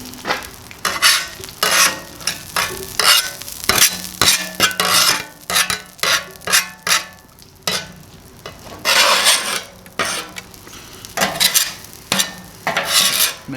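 A metal scraper drags across a Blackstone griddle in repeated rough bursts, loud rasping strokes with brief pauses, some light clinks and sizzling between them, no talk.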